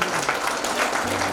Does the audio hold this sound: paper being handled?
no